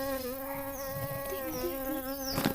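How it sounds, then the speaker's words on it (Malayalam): A bee-like insect hovers at a wild kurinji flower, its steady, close buzzing drone holding evenly throughout, with a brief rustle near the end and no voices. "ഹായ്, തേൻ കുടിക്കാൻ ഒരു തേനീച്ച വന്നിട്ടുണ്ട്"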